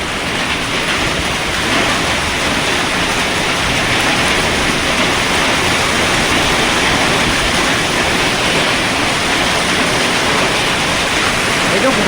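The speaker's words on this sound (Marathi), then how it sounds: "पाऊस पण तेवढा आहे ना हवा पण भरपूर आहे" Heavy rain pours under strong wind, a close, loud, unbroken roar of water striking surfaces that stays level for the whole stretch.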